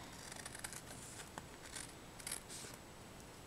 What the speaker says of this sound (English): I'm going to get my bigger scissors and trim off the excess.